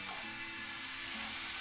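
Stuffing masala for stuffed pomfret sizzles and fries in a pan, a steady broad hiss lasting the whole moment with faint stirring, no voices.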